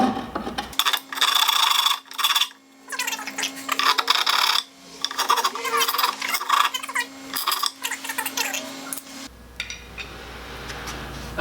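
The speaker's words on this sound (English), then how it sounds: "once we have that all filed down, smoothed out, and you've removed any kind of burrs that are getting in your way" Metal file rasping and scraping a deck fill hole opening on a boat, in repeated uneven strokes with short pauses, close and fairly loud, ending in quieter rubbing.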